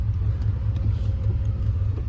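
A car being driven, heard from inside the cabin: a steady, loud low rumble of engine and road noise that holds without a break.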